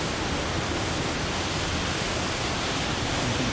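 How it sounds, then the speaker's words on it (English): Steady broadband roar of a waterfall near Guadalupe, Colombia, a continuous rushing wash of falling water that stays loud and unchanging throughout, with no voices. "And right over in the other side, river number 1, the other waterfall."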